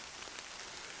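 Rain falls steadily in a pine forest, a soft, even hiss of drops pattering on surfaces all around, quiet and continuous.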